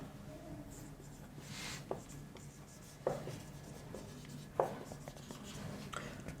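Marker or chalk writing on a board in a classroom, a few scattered strokes and taps, fairly quiet with a soft background hum and no speech.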